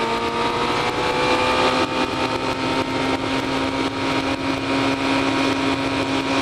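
Motorcycle fitted with a Yoshimura R55 slip-on exhaust rumbles steadily while riding, a droning engine note with a firm low tone and some wind, and no talking.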